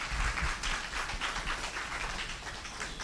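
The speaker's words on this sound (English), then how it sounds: "Let's give her a round of applause" Audience applause after a conference presentation, a fairly steady patter of many hands clapping with soft taps throughout, moderately loud and free of speech.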